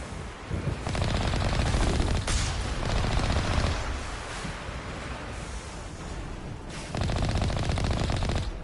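Rapid pistol fire in the Mass Effect video game comes in dense bursts separated by short lulls, loud and close, with no talking.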